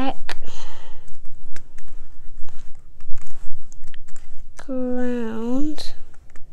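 Typing on a computer keyboard, a run of close, crisp clicks at an uneven pace with a brief voice partway through.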